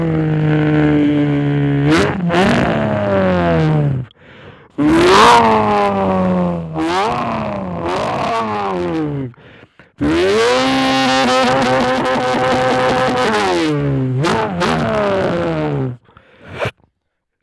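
A voice imitates a car engine cranking, starting and revving, with rising and falling pitched bursts, a pause, then a longer sustained rev, loud and close.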